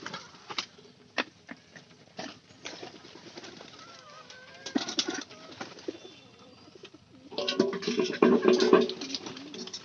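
Pigeons coo and flutter in a crowded loft, soft repeated throaty calls with scattered wing flaps and pecking taps, growing busier and louder toward the end.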